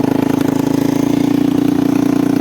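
A motorbike with a faulty rear brake runs steadily nearby, a close, loud and even low engine throb with rapid regular pulsing and no voices.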